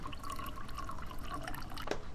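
Water is poured into a home coffee maker's reservoir, a continuous close trickling and splashing stream that runs for a couple of seconds without any talk.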